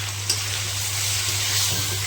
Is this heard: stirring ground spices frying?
yes